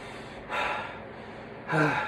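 A voice imitates breathing: two or three breathy inhales and exhales, close and fairly loud, with a short pause between them.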